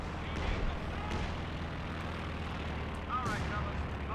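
Artillery shells thud and rumble on the battlefield of Company of Heroes 2 during a 4v4 Lanzerath Ambush match, a dense, steady barrage with a brighter whistling burst near the end, and a voice talking over it.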